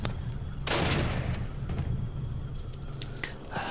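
A grenade goes off in Call of Duty as a single deep, booming blast with a long rumbling tail, followed by fainter scattered battle noises in the background and no talking.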